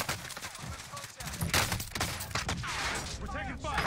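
Gunfire in a battle royale video game, with rapid bursts of shots crackling over continuous game noise and effects while voices talk throughout.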